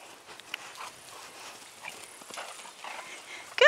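A ridden horse picking up a three-beat canter, its hooves giving soft, rhythmic thuds over light background noise, with a sharp, loud burst right at the end.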